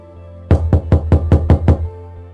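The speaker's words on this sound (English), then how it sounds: "At that moment, there came a knock at the door." Knocking at a door: seven quick, evenly spaced, loud raps close by, with a moment of quiet before and after.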